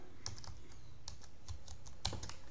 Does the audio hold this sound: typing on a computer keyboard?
yes